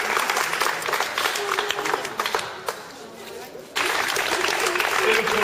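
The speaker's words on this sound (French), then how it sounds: "On applaudit très fort." An audience at a Corsican championship title award ceremony applauds loudly, with dense clapping and crowd noise that briefly dips before surging back, mixed with cheering voices.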